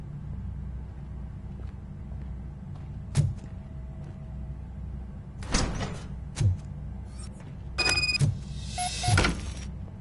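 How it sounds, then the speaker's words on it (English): A door opens in the video game RoboCop: Rogue City with a run of sliding, mechanical clunks and short bursts over a low ambient hum, with no talk. "Now let me get that door open for you."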